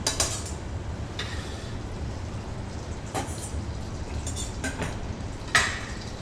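Chopped shallots stirred into melting fat in a pan, with a low steady sizzle under intermittent metallic clinks and scrapes of a utensil against the pan.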